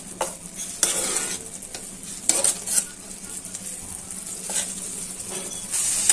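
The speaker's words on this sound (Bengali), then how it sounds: "এখন ভালো করে মশলাটা একটু কষানো হয়ে যাবে।" Spice paste for a shrimp and Malabar spinach curry frying and being stirred in a pan, with a steady sizzle broken by repeated scraping strokes of a spoon against the metal, close and clear, no talking.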